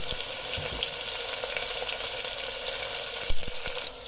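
Onions frying in hot oil over medium flame for a Sindhi chana biryani, a steady broadband sizzle with a faint watery crackle and a few sharper pops near the end, no talk.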